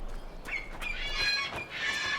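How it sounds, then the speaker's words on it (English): Shrill bird calls in Dragon Age: Inquisition, a few high chirping and squawking notes repeating close by over a quiet game background. "I hate the noises of those birds."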